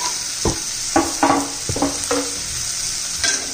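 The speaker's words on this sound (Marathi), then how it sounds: "टोमॅटोही परतून घेऊ आता छान असं।" Tomato sautéed with onion and pavta beans in a pan gives a loud, steady sizzle, with several scraping stirs of a spatula spaced through it.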